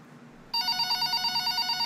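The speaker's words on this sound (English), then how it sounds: "I have a phone call" A phone in the College Football 26 video game starts ringing after a quiet moment, a bright electronic ring pulsing in steady repeated bursts, clear and close.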